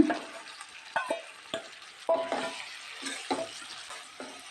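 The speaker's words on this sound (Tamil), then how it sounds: "வதக்கி விட்ட இந்த மாதிரி ஆன பிறகு நம்ம எடுத்து வச்சுருக்க சிக்கனை இதோட கலந்துக்கிடலாங்க" Chicken being stirred into tomato masala in a pan, with intermittent scraping strokes of a spoon against the pan over a soft sizzle, close and fairly quiet.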